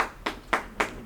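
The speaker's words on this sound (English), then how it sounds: "I'm glad you clap" Hands clap at a hurricane briefing, four sharp, evenly spaced claps heard close over a low room hum.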